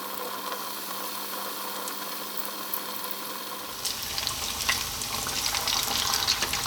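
Salt and pepper chicken wings fry in a pan with a continuous crackling sizzle that grows busier and more spattery partway through.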